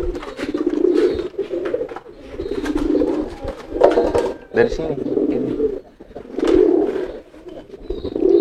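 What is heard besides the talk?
pigeons cooing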